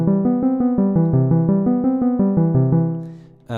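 A synthesizer plays a fast, evenly pulsed arpeggio through a chord for the Stranger Things theme, repeating the pattern steadily, then a brief final note.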